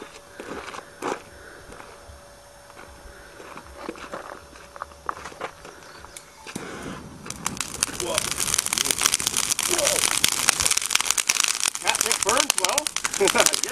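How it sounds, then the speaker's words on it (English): Catnip doused in gasoline burns with a quiet start, then bursts into dense, loud snapping and crackling that continues steadily to the end, close by. "It definitely snap crackles and pops."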